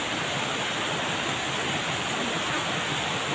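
Steady rushing water of a river beside an outdoor riverside meal during heavy rain, a dense continuous broadband wash that stays loud and unbroken throughout.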